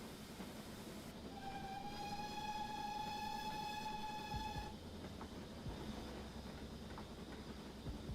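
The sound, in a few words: train running on rails, from the video game Train Sim Classic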